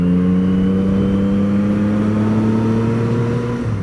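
A Yamaha MT-09 motorcycle ridden along A roads, its engine holding a loud, steady drone with a smooth, slowly rising pitch throughout, wind noise underneath and no voices.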